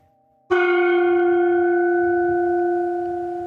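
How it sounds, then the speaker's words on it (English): A gong rings out once with a sharp strike, then a bright sustained tone decays slowly over a few seconds, standing alone after a faint hum. "Nice gong sound."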